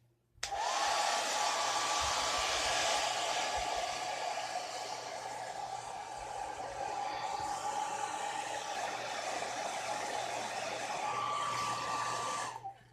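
A hair dryer blows on watercolor paint, a loud steady whoosh of air with a constant motor hum, switched on at the start and running evenly for about twelve seconds before cutting off.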